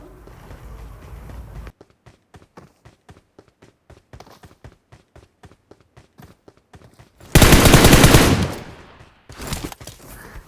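PUBG Mobile match on the Erangel map: a long run of rapid, evenly spaced gunshots rings out alone, then a loud burst of noise follows and a short reloading clatter comes at the end.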